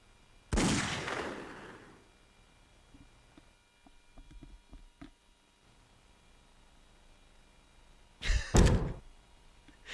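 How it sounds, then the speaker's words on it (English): A gun fired in The X-Files video game, two loud, sharp blasts several seconds apart, each with a short decaying tail, and faint thumps in between. "Yes, that's how you fire the gun"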